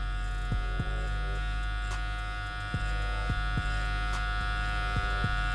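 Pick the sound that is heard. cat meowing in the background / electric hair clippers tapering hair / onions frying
electric hair clippers tapering hair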